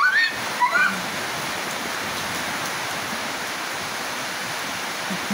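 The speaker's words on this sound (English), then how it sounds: "It's raining." Steady rain falls around horses outdoors, a continuous hiss with no breaks, with a couple of brief faint chirps or squeaks near the start.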